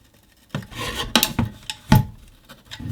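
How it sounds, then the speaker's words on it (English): Metal shielding on a Kenwood TS-700S radio being slid off by hand, close rasping scrapes and rubbing bursts with a few clunks, in irregular movements after a quiet start, no talking. "it's possible to slide off the shielding carefully"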